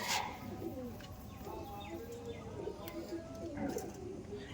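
A pair of Madras pigeons of the Chennai line coos in low, bubbling phrases inside a loft, fairly faint against steady room noise, with a person talking at times.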